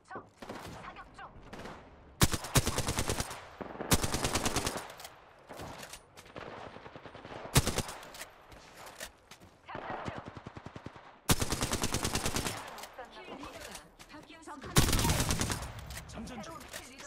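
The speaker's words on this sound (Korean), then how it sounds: "사격한다. 적 사격 중." Automatic gunfire in the Apex Legends video game: repeated loud, close bursts of rapid shots, each lasting about a second, separated by quieter stretches of battle noise.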